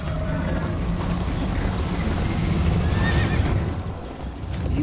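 Horse neighing and whinnying with clip-clopping hooves in the video game Minecraft Story Mode, loud and continuous over a dense bed of game background noise, no talk.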